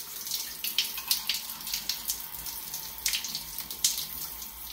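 Hot water runs steadily from a tap, a soft continuous hiss and splash with small surging bursts, fairly faint and close, with no talking.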